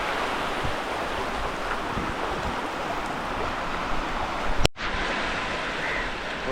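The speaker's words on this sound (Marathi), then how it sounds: "आपण लय मोठ्या मोठ्या लाटा येऊ राहिल्या" Big sea waves break on the shore at Burondi near Dapoli, a loud, constant roaring wash heard close by, with a brief gusty bump near the end.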